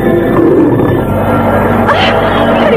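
A large tiger's loud, close roar, a sustained growling rumble filling the whole moment as a sound effect in a Javanese legend radio drama, with no voices over it.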